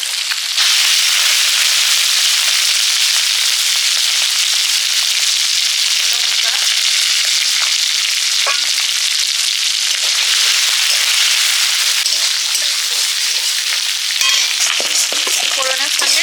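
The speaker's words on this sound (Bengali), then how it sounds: "চিংড়ি মাছগুলো ভেজে নিয়েছি" Shrimp coated in salt and turmeric fry in oil with a loud, dense, continuous sizzle and crackle that holds steady throughout, close to the pan.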